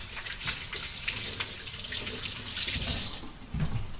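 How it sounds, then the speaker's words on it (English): Tap water runs into a kitchen sink while hands are washed under it, a close, steady splash with shifting gushes and brief changes as the hands move through the stream. "Let me wash my hands here real quick."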